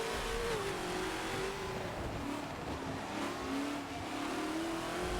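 Ford GT40 racing through a downshift to second gear in the video game Forza on the Spa track: a steady, close engine roar whose pitch dips and rises as the revs change, loud and alone.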